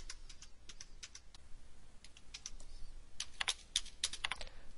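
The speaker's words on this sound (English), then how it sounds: "then type 72 in the lines column, and hit enter" Keystrokes on a computer keyboard while entering values into a mainframe report viewer, sparse clicks at first, then faster bursts of typing, close and alone with no voices.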